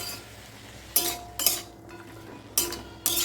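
Malabar spinach cooking in an uncovered pot without water, a soft low simmer broken by four sharp metallic scrapes and clinks of a spoon stirring against the pot, with no voices.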